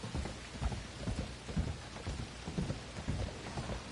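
Steady rain pattering on surfaces in Red Dead Redemption 2, with low rumbling thunder and rhythmic clip-clop of hooves running under it throughout.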